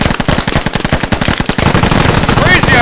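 A .50 cal machine gun in the video game Squad fires a loud, rapid burst of evenly spaced shots for about a second and a half, followed by dense battle noise with a voice.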